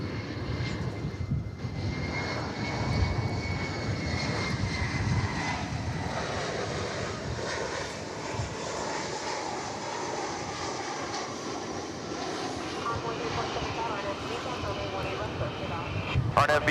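An American Airlines jet airliner at DFW Airport, a steady loud engine roar sustained throughout, with radio chatter and talk faintly underneath.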